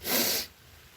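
A single short sharp sneeze burst of breathy hiss, close and fairly loud, lasting about half a second before fading into quiet room noise.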